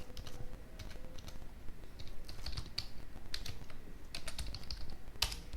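Rapid, steady keystrokes on a computer keyboard during a coding session, clicking alone and close up with an irregular rhythm and a few sharper taps.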